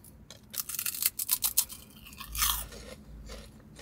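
Crispy Taco Bell cinnamon twists are crunched close to the mic in a quick series of sharp bites and chews, followed by softer grinding mastication.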